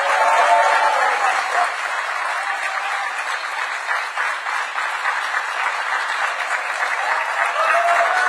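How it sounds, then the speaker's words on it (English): A large summit audience applauds with dense, sustained clapping that stays loud and even for several seconds before easing slightly, with a little crowd noise mixed in. "Please give Aisha a big round of applause."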